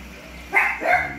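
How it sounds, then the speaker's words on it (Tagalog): Two quick dog barks in close succession, fairly near, over a low steady background hum. "maingay yung mga aso natin"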